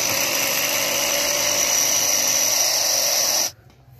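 Power drill boring into a Yamaha R9 motorcycle silencer, a loud, steady high-pitched whine with metallic grinding that runs continuously before cutting off abruptly near the end.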